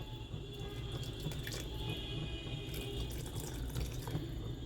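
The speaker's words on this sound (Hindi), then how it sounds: "थोड़ा सा पानी डाल देंगे हम" Water pours steadily into a metal pressure cooker, a continuous splashing stream with a faint ringing tone, no voices.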